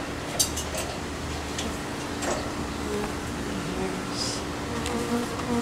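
Faint bee buzzing hums steadily in the background, with occasional small clicks and higher whines, no talking.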